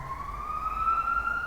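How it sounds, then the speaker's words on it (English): A siren wails steadily in the background, its tone slowly rising, heard at a distance with no voices over it. "I mean the siren in the background, it's surely gonna get caught in the video"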